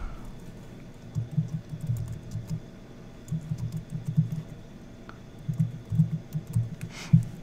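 Someone types a name on a computer keyboard, a steady patter of light key clicks in irregular bursts with short pauses between them.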